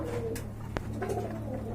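Large rare pigeons at a pigeon seller's collection cooing in a low, soft, steady rumble, close and continuous, with a brief sharp knock partway through.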